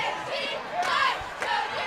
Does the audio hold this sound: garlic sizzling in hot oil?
no